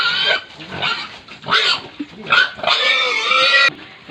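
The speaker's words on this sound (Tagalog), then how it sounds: "ang laki ng aking mga baboy" Several market-size pigs squeal and grunt loudly in repeated harsh bursts as they are hauled out for sale on a backyard hog farm, close and continuous with brief pauses.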